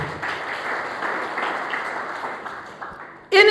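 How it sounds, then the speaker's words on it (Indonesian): A church congregation claps for God during a service. The dense, sustained applause fills the room and tapers off before a louder sound cuts in at the end. "Beri tepuk tangan terbaik buat Tuhan"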